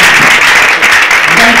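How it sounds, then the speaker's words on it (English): An audience at a panel event gives a round of applause for Enactus, a loud, dense burst of clapping filling the short moment without a break. "Let's give a round of applause to Enactus."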